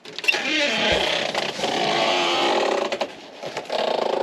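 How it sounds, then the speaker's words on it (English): A truck engine starts on a chilly Canadian morning and settles into a loud, steady idle with a high belt-like squeal over the rumble, close to the microphone. "Truck's running."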